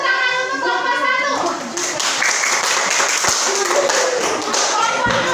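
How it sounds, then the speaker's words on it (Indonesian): Students in a classroom clap for a presenting group, a burst of hand claps that follows a teacher's voice and carries on with scattered taps while children talk in the background. "Tepuk tangan untuk kelompok 1."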